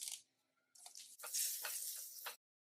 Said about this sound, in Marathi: मोहरी, तीळ, कढीपत्त्याची छान चुरचुरीत फोडणी करायची.